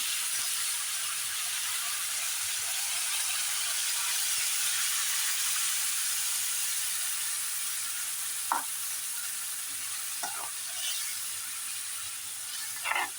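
Green chilli and spice paste sizzles steadily in a pan on an Indian home stove, a loud continuous hiss with a few brief scrapes of stirring near the end.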